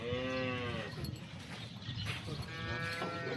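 Local Banaskantha cows moo in a farm shed, with one drawn-out low call at the start and another toward the end over a murmur of background noise. Nobody speaks.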